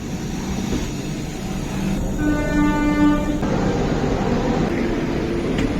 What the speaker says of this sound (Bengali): এই সেই ট্রেন, ভারতের প্রথম বন্দে ভারত স্লিপার এক্সপ্রেস।